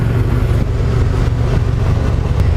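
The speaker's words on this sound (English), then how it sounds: "I actually get more road noise from the tires than I do the engine itself." Steady low rumble of a Yamaha Wolverine X4's tires rolling on pavement, continuous and fairly loud, with a faint engine hum underneath.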